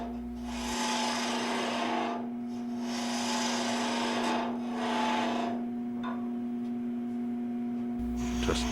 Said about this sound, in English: Just deepening that slot a little more with the 16th parting tool